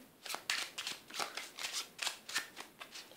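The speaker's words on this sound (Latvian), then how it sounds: "Un kārtas vēl mazliet samaisīšu." A deck of playing cards being shuffled, giving a quick series of crisp riffling bursts at a steady rhythm, fairly faint and close, with no talk.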